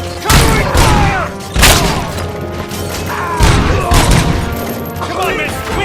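Sustained covering gunfire in the video game RoboCop: Rogue City during a hospital attack, loud bursts and booms repeating across the whole stretch with dense battle noise between, voices shouting underneath.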